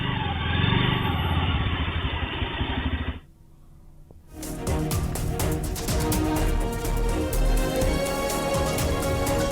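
CCTV footage of thieves taking a parked motorcycle, bought as a dowry gift, in daylight: a loud engine runs steadily, cuts out briefly, then restarts and rumbles with clattering and revving as the bike is ridden off.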